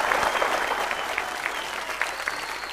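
Studio audience applauding a quiz-show contestant and family on a Bhojpuri crorepati game show, a steady wash of clapping throughout, fairly distant, with no voices on top.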